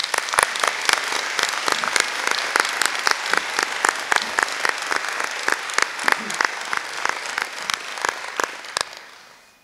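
A crowd at a nursing pinning ceremony gives a long round of applause for the nurses, with dense steady clapping punctuated by sharp individual claps, fading out at the end.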